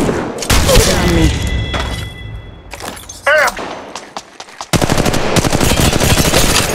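Loud bursts of automatic gunfire in Apex Legends Mobile, scattered rapid shots and impacts with brief gaps, ending in a sustained dense volley, while voices speak intermittently.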